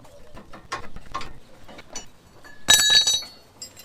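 A ratchet loosens lock nuts on a trailer axle during a wheel bearing repair, giving loud, close, bursty clicking followed by a sharp metallic clink that rings briefly.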